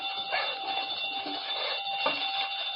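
Burglar alarm wired to a safe, used as a radio drama sound effect, ringing continuously in a high, shrill, unbroken tone with faint background movement.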